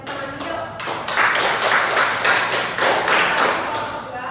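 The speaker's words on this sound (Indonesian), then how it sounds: "Berikan tepuk tangan dulu." Students in a biology microteaching classroom clap together for a presenting group, a short burst of several hands that starts thin, swells into rhythmic loud clapping and fades near the end.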